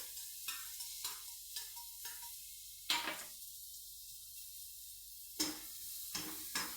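Onions slipped gradually into hot oil sizzle with a steady hiss, broken by a series of short scraping stirs and a few sharper clatters from the pan, close and moderately loud, with no voices.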